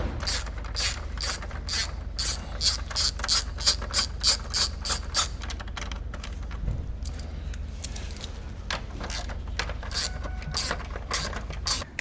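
A hand ratchet loosens 10 mm nuts on the grille of a 2025 Ford F-150 Tremor, giving close, loud bursts of rapid clicking followed by quieter, scattered clicks and handling noise.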